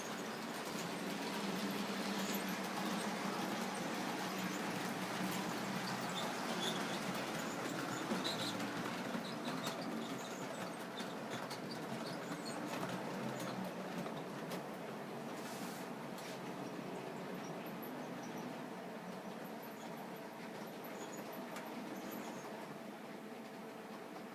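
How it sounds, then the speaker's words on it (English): A southbound passenger train moving on a model railroad, giving a steady low rolling rumble and wheel hum that holds evenly throughout with no voices. "Southbound passenger is on the move"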